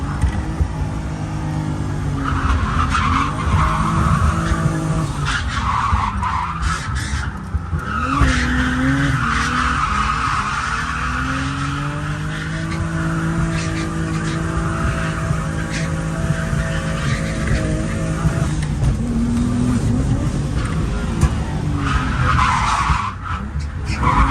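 On a touge drift run a car drifts with long, sustained tire squeals and skidding over a loud, varying engine note, revving and easing off through the slides for over twenty seconds.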